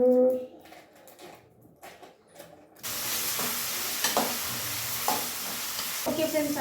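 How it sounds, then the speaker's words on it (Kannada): Carrots and potatoes frying in a pan for upma: after a quieter stretch with faint clatter, a loud steady sizzle begins midway with stirring scrapes. "ಇವಾಗ ನಾನು ತರಕಾರಿ ಫ್ರೈ ಮಾಡ್ಕೊಳ್ತಾ ಇದ್ದೀನಿ ತರಕಾರಿ ಹಾಕಿದ್ದೀನಿ ಕ್ಯಾರೆಟು ಮತ್ತು ಆಲೂಗಡ್ಡೆ ಎರಡನ್ನು ಹಾಕೊಂಡಿದ್ದೀನಿ"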